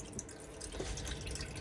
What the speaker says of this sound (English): So now that we've got that switched on, we will then have water coming through the tap.